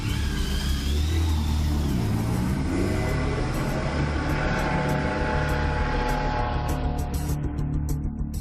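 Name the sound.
police car speeding above the speed limit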